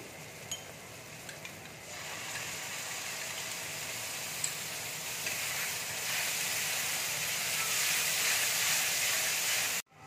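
Okra frying in a pan with pickle spices and sour yogurt just added, a continuous soft hissing sizzle that builds slightly and cuts off abruptly at the end.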